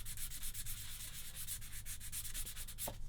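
Steady rhythmic scratchy strokes of fine sanding on a 1/35 scale plastic model kit part, close up, continuing evenly without any voices.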